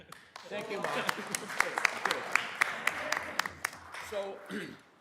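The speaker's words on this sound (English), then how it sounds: "I want my applause." Audience clapping in a conference room during a fire-safety training session on energy storage systems, a burst of scattered claps rising then fading over about five seconds, with voices talking over it.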